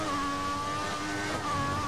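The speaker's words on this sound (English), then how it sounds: "We're spinning the wheels a little bit here" An F1 car in the racing game F1 2014 spins its wheels with a steady, high-pitched engine whine that holds a constant tone, loud and close throughout, with no talking.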